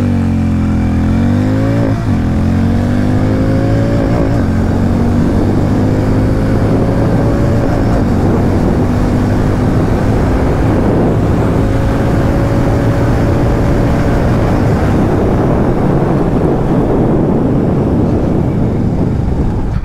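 A Hero Mavrick 440 motorcycle engine revs hard and climbs through several gear changes during a 0-100 run, loud and continuous, rising in pitch each time before dropping on the shift.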